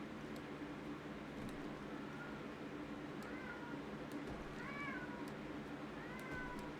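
A cat meows several times, rising and falling calls heard faintly at a distance over a constant steady background hiss, with no talking.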